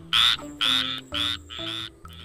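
A green toy frog croaks in four loud, evenly spaced bursts, each a rasping, buzzy call standing alone in the clip with no talk.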